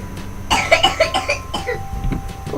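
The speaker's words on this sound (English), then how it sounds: "oh dear, that's a nasty cough" A single harsh cough bursts out close by in an indoor room, followed by a few rough, throaty hacks that trail off over a couple of seconds.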